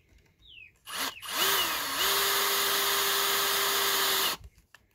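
An Einhell TE-CD Li BL cordless drill drives a large screw into wood at setting 7, a short spin-up followed by a steady high motor whine for about three seconds that stops abruptly, nearby and loud.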